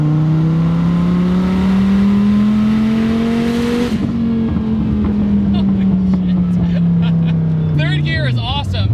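A 1400 HP twin-turbo Dodge Viper pulls hard through the gears, its loud engine drone rising in pitch, dropping at a shift and climbing again, with a voice talking over it in the cabin.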